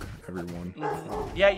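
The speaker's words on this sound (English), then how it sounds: "Oh my gosh, I'm sorry about the dog" A dog barks and yips a few times close by, its short bursts mixed in with a woman's casual conversation on a call.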